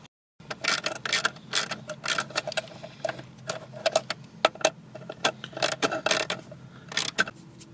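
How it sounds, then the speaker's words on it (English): A 10 mm ratchet works at the ECU bracket cover of a K-swapped car, with quick clicking ratchet strokes in bursts and small metallic taps, close and fairly quiet. "let me get a 10 and pull that off so you can see the connector better."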